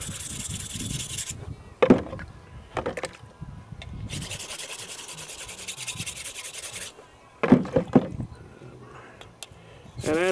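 A knife is drawn across a sharpening stone in bursts of gritty rubbing strokes, with pauses between sets and someone talking in between.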